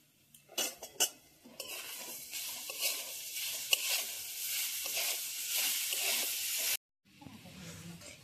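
Grated coconut for coconut sweets is stirred in a wok, a close scraping and rustling with soft sizzle and occasional clinks of a utensil against metal, fairly quiet, ending abruptly in a short pause before faint low noise returns.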